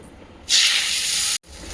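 Asafoetida, sugar, tomato, ginger and green chilli dropped into hot oil in a pan, a sudden loud hiss that holds steady for about a second, then cuts off before a quieter sizzle resumes.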